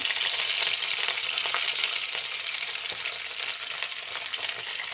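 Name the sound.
curry leaves frying with mustard, ginger and garlic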